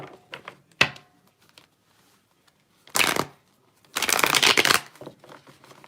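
Tarot cards being shuffled in several distinct bursts: a short riffle, then a longer crisp rattling run of cards, with quiet gaps between and no talking.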